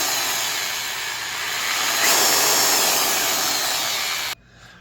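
A DeWalt electronic polisher with an 8 amp motor runs at slow speed with a steady, close whirring hum that rises slightly midway, then cuts off abruptly near the end.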